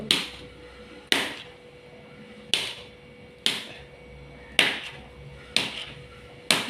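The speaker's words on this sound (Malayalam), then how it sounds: "അപ്പോൾ ഇത് ഒരു അര കിലോ ഇങ്ങനെ കട്ട് ചെയ്തെടുക്കുക" Glycerin soap base, about half a kilo, being cut into small pieces with a knife: seven sharp, evenly spaced chopping knocks, close and fairly loud, each followed by a short ringing decay, with no talking.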